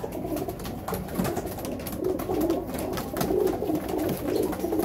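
Rampuri pigeons coo softly and repeatedly nearby, their low burbling calls overlapping against a faint background of other birds.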